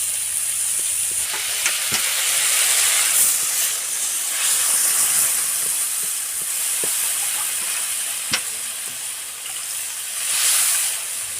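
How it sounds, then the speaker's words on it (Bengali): Water hitting a hot pan of potatoes and onions fried in oil with green chillies, ginger, garlic, salt and turmeric, for a pangas fish curry; a loud, steady steaming hiss and sizzle fills the whole stretch with a few sharp crackles. "এবারে জল দেবে"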